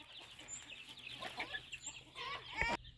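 Chickens on a farm in the dry season cluck softly and repeatedly nearby, with a few short squawks and faint background noise, ending in a sudden louder bump.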